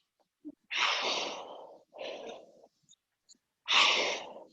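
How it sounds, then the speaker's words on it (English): Deep breaths drawn in during a weightlifting movement, three loud, close, breathy inhales and exhales with short pauses between them and a faint sniff before the first. "So breathing in."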